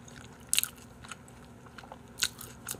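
Crunchy fried sweet and sour pork (tangsuyuk) is bitten into with sharp, crisp crunches, two loud bites about two seconds apart plus a few softer crackles, up close over quiet background.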